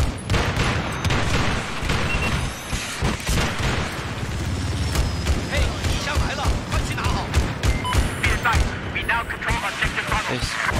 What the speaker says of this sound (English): He's shooting that damn wall up, ain't he?